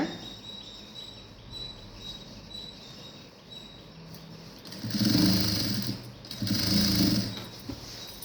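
Sewing machine stitching the hem of a silk skirt made from a shawl, two loud close bursts of rapid whirring after a quiet stretch of faint room noise.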